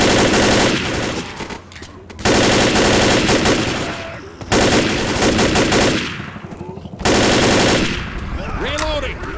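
Rapid automatic gunfire in the zombie shooter Left 4 Dead, loud and close, in several long bursts separated by short pauses, with brief game voices in between.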